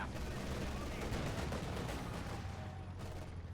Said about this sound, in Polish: I strzela, strzela im w plecy, jeszcze w takie zgrupowanie